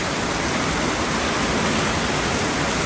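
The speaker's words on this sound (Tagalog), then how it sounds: "Ang lakas ng ulan." Heavy rain pours down steadily in the evening, a dense, unbroken hiss close by with no pauses and no voices over it.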